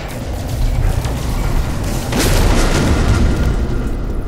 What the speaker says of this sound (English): That was a nice shot with the missile.